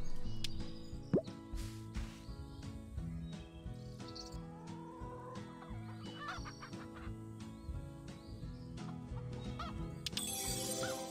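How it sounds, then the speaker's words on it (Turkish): Chickens in the farming video game Hay Day cluck and chatter over a steady game soundtrack, with occasional soft plops and bird calls mixed in. "Tamam, 3 tane tavuk aldım. Tavukları besle,"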